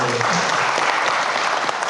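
Audience applause at a creative-economy event in Samarinda, a dense, loud burst of many hands clapping together, sustained and close for about two seconds.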